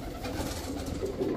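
A cheetah military female pigeon coos in a brief low throaty burst, close and fairly clear.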